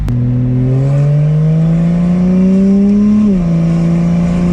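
Turbocharged 2JZ engine in a Lexus IS300 revving hard, a strong droning tone climbing steadily in pitch before dropping back slightly, loud and continuous throughout with no talking.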